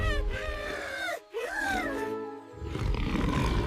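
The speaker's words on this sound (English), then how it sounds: "He has very big teeth and a very loud roar." A loud, drawn-out cartoonish T-Rex roar from an animated cartoon, with a brief gap, then a second rising roar that trails off into rumbling noise.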